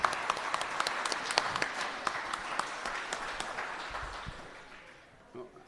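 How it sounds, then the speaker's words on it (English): An audience at an Angus cattle production sale in Randolph, New York applauds the host and crew, a steady round of clapping that tapers off toward the end, with a voice briefly heard. "let's give Mr. John Inkley and all the crew here a great round of applause"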